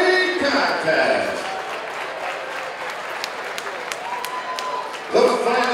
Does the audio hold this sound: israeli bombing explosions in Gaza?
no